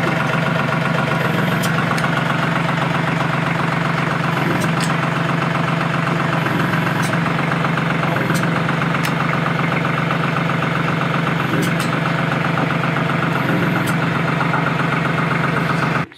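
Steady, close idling of a TYM 2515 tractor engine with a low rumbling drone and a faint rhythmic knock, running continuously without a break.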